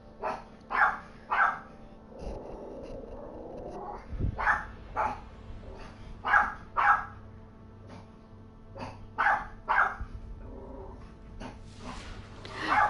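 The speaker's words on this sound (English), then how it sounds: "it sounds like my dog is barking at my landlady." A dog barks repeatedly in short, fairly loud bursts spread across the span, with a few soft whimper-like sounds between them and no talking.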